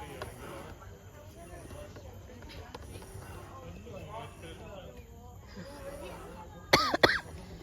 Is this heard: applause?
no